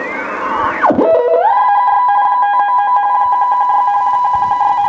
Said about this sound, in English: So this is actually radio teletype.